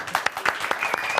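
Studio audience applause, a short burst of many hands clapping close and loud with a lively, uneven rhythm through the whole moment on a Persian talk show.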